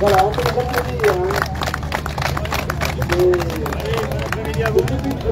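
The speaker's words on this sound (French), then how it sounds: "Voilà, on peut les applaudir." An outdoor crowd at a wheat harvest festival in Pleudihen-sur-Rance claps in a scattered, moderate patter, with chatter and voices running throughout.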